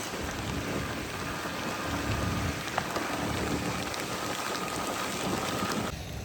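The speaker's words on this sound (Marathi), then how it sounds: "पाऊस स्टार्ट झालेला आहे" Monsoon rain pours steadily on a road trip from Pune to Lonavala, a loud, continuous wash of drops hitting surfaces with a faint low rumble beneath and no talk.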